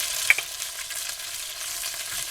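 Pork chops browning in a pot for a one-pot meal, a soft steady sizzle with faint crackles throughout, moderately close and without speech.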